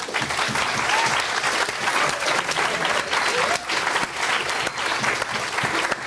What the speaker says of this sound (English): please get a round of applause for Nick